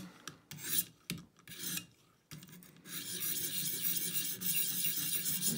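A Fort Bridger mountain man knife blade rasps against a sharpening surface to remove the burr, first in a few short separate strokes with gaps, then one long continuous scraping stroke, close and without talk.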